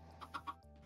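A chicken in the Minecraft video game clucks three short, soft notes in a quick row over a low steady hum, fairly quiet.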